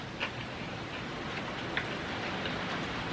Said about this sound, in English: Ooh, that rain.